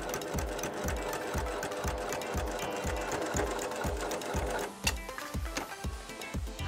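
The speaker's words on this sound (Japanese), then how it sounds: "ポケット部分を縫っていきたいと思います。" Sewing machine stitching a pocket on a garment runs in a fast, even rhythm of mechanical thumps, close and clear, with the pace shifting slightly near the end.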